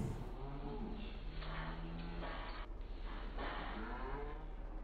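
Several video-game cattle moo in long, drawn-out calls over a steady background hum, the lowing overlapping and continuing throughout, in Farming Simulator 15.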